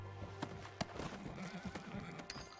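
A horse in the video game Red Dead Redemption 2 gives a brief whinny among light hoof clip-clops and soft shuffling, fairly quiet and close, with no talking.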